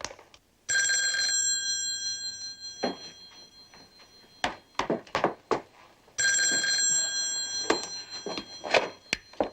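A telephone bell rings loudly in two long, steady bursts, with light clicks and taps between the rings, in an indoor scene from the detective drama Barnaby Jones.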